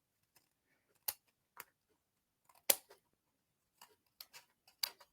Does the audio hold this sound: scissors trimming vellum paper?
yes